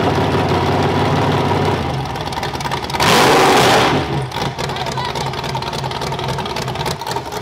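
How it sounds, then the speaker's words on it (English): A 383 stroker V8 built by Jeff Collier for a demolition derby car rumbles at a loud, steady idle, then surges through a brief rev before settling back into a lumpy, continuous growl. "This is the motor we're gonna run in that there Durfee car. 383 stroker, built by Jeff Collier."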